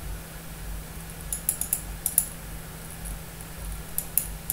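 Keys click on a computer keyboard in a short irregular burst of presses, crisp and close against a low steady hum, with no voices.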